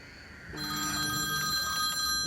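A telephone rings with an incoming call from a withheld number. The bright, steady electronic ringing starts abruptly after a brief quiet moment and continues loud and alone.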